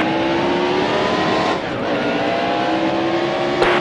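A race car engine drones loudly at steady high revs, its pitch shifting slightly as another car sweeps past, then holds on.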